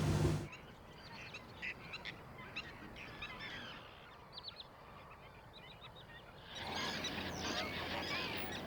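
Flamingos call from a colony in the Ebro Delta salt marshes, a continuous faint honking chatter of many birds at a distance, with a brief louder burst at the start and a fuller swell of calls near the end.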